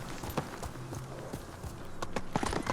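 Horse galloping in Ghost of Tsushima, a brisk series of sharp hoof clip-clops in an uneven running rhythm, close and clear over light ambient background.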